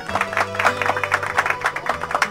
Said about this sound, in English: thank you for the clapping